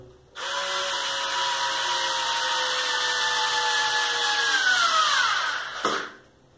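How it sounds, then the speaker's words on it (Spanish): Cordless electric screwdriver driving a screw while installing a Gimi Lift 240 hanging clothes rack: one sustained motor whine lasting about five seconds, pitch sagging slightly as the screw seats, then stopping with a brief click, close and loud. "también se puede utilizar algún tipo de destornillador eléctrico"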